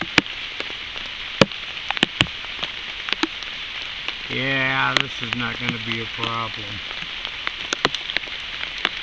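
Rain pattering on a shelter over a campfire in the woods, with scattered sharp drips and taps over a soft steady hiss, while someone speaks briefly midway.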